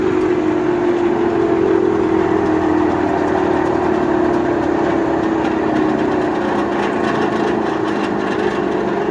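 Wood chipper coasting down with the tractor shut off, its belt-driven drum giving a steady whirring drone with a slowly falling hum, continuous and close, with no voices.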